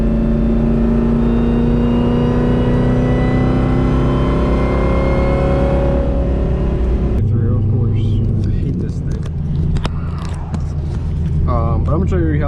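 A Pontiac G8 with a ported LSA supercharged engine in sport mode rumbles loudly and revs as it pulls away from a light. The deep drone is heard from inside the car, with someone talking over it.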